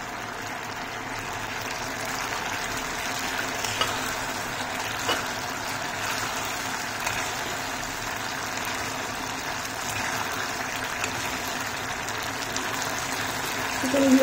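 Chicken pieces frying in a pan give a steady, even sizzle and hiss that stays constant and close throughout, with no voices over it.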